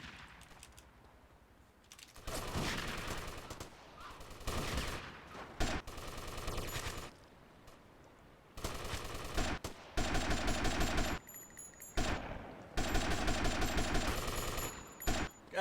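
Rapid bursts of automatic gunfire from a shooter video game, in repeated volleys separated by short pauses, loud and close with no talking.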